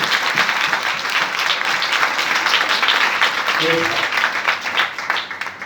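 A church congregation applauds during an Urdu sermon, with a thick, continuous wash of clapping running throughout and voices mixed in beneath it.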